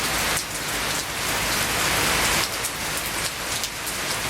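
Steady heavy rain pattering on surfaces fills the air at close range, its broadband hiss swelling in dense bursts and building in intensity with no voices present.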